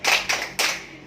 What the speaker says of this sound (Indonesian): Mari kita tepuk jempol untuk kita semua yang sudah berdiskusi hari ini.